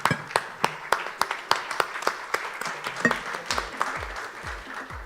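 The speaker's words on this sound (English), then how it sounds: "Let's stand up and give them the applause that they deserve." A standing audience applauds a panel on private equity investing in India, dense clapping with sharp individual claps up close, loud and sustained for several seconds, with no talking over it.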